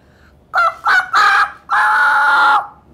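A child at a school for the blind mimics a rooster's crow, with three short voiced bursts and then one long drawn-out call, loud and close with no other sound.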